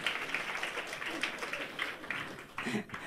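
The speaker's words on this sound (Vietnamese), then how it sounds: "Hãy cùng vỗ tay rồi khen Chúa quý vị." Congregation clapping during a church service, a steady wash of hand claps throughout with a voice briefly rising over it near the end.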